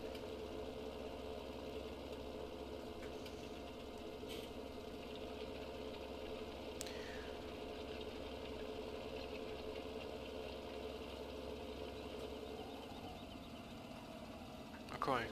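A tractor in the Farming Simulator 17 video game idles with a constant low, rumbling engine drone that stays steady throughout, with faint small clicks and a brief louder bump at the very end.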